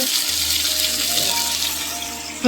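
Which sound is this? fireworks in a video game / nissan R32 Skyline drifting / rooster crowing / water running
water running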